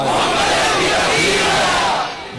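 A large crowd chants religious slogans in loud unison at a Muslim religious gathering, a continuous roaring mass of voices that fills the whole stretch and eases slightly at the end.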